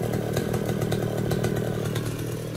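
A chainsaw cuts through a leaning coconut tree near a house, its engine running steadily loud and close with a continuous buzzing snarl throughout and no talk.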